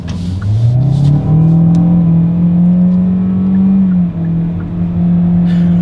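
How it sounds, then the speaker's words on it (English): A 2023 Kia Soul pulling away hard in sport mode, its engine note rising steadily in a long, loud rev before a brief dip as it upshifts, then droning on at speed, with no voices. "let's see how quickly we can get our new 2023 Kia Soul here up to speed"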